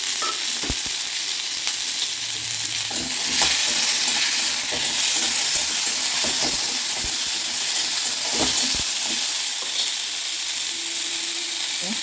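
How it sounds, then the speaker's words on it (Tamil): Tamarind, green chillies and tomatoes sauté loudly in a pan for a coconut-free chutney, a dense close sizzle broken by repeated sharp scrapes and knocks of a stirring spoon, no talk. "இந்த பச்சை மிளகாயும் போட்டுட்டு இந்த தக்காளியும் நம்ம சேர்த்து நல்லா வதக்கிக்கலாம்."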